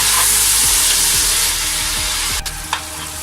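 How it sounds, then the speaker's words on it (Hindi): Onion fries with ginger-garlic paste in a hot pan, giving a loud, close, steady sizzle with a few stirring scrapes, which drops away near the end into two brief clinks. "देखिए हम प्याज को अच्छी तरह मिक्स करेंगे, अच्छी तरह पकाएंगे।"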